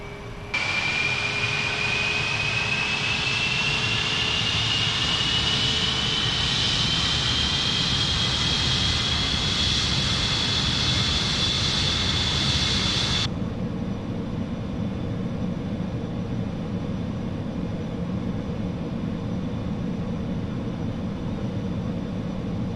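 Simulated Concorde jet engines roar steadily while the airliner taxis in Microsoft Flight Simulator, a loud constant drone with a rising whine that cuts to a lower, quieter rumble about halfway through, with no speech.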